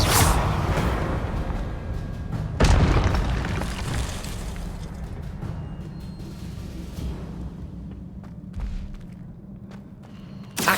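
Confringo blasting-spell explosions in the Hogwarts Legacy video game: a loud burst and boom near the start, a second heavy blast around the third second, then sustained rumbling with smaller pops fading toward the end.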